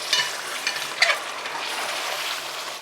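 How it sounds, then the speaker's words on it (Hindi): Mutton pieces frying on a high flame for a rich korma curry, a dense, even sizzle stirred with a couple of sharp spoon clinks near the start, close and steady with no speech. "गोश्त को यहाँ पर 10 मिनट करीब हाई फ्लेम पर भून लेना है।"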